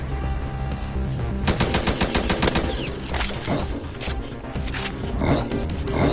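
Bursts of rapid automatic gunfire in a Roblox shooter, a fast rattling string of shots followed by a few scattered cracks and another short burst, loud over game background noise.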